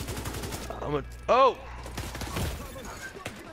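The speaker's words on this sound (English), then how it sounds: "I'm just trying to use that turret to keep on hitting that thing." A turret firing in the video game The Division 2, heard as rapid, fairly faint shots beneath the voices of players talking and exclaiming.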